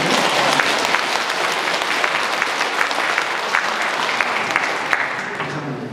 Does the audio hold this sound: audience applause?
yes